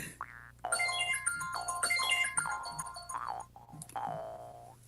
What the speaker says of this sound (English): Your phone's going off, by the way.